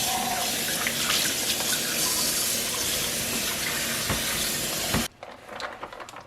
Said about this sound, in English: I'm not going to have the water running very hard because I don't want to splash too much.